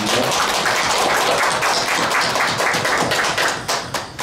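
Church congregation at Woomul Church clapping together in praise, a dense, fast, continuous patter of hands filling the hall at steady loudness, tapering slightly near the end.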